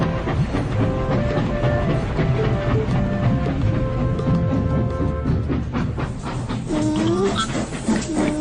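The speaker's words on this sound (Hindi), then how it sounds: "ट्रेन भी क्या बीट्स दे रही है डूड" A passenger train runs along the rails with a steady, loud rumble and rhythmic clatter throughout, broad noise filling the scene, with a faint squeal rising near the end.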